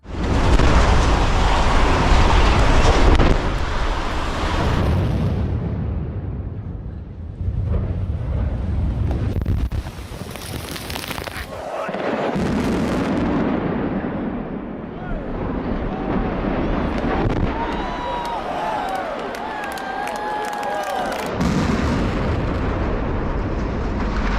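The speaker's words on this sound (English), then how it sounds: "the viaduct awaited its fate for 2 years before the meticulously planned demolition" Loud rumbling blasts and sustained roaring debris noise from the controlled demolition explosion of a viaduct, with crowd voices and whistles rising later.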